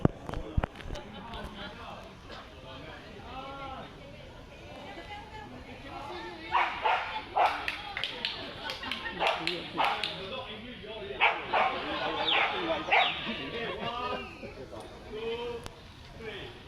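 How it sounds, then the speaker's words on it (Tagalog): A large white dog barks and yips repeatedly in an outdoor botanical garden in Singapore, the barks coming in bursts and growing louder, mixed with people talking nearby. "Galit na yung aso"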